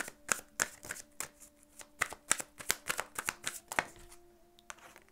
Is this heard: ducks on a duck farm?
no